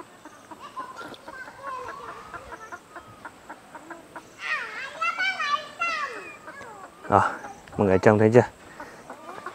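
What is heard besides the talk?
neighbour's chickens clucking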